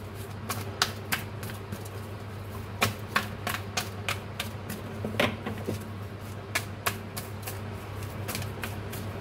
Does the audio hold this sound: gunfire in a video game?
no